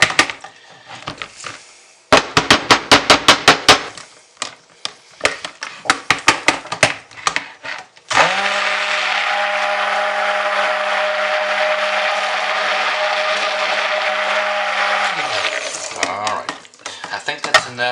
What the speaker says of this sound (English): I'm going to use my stick blender to mix it for the most part